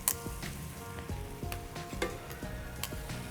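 Steaks sear in a hot skillet with a steady, close sizzle and crackle, small pops and spits breaking through the continuous frying hiss.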